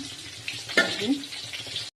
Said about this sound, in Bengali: লাল লাল করে মাছটা ভেজেছি